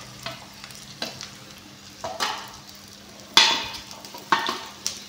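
Chopped bell peppers frying in a hot pan with a steady sizzle, broken by five or six sharp scraping stirs of a spatula against the metal, close up and with no talking.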